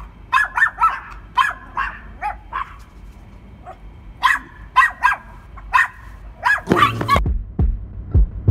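A small dog, a puppy, barks in quick high yapping bursts, pausing between volleys, then lets out whimpering yips near the end, close and loud.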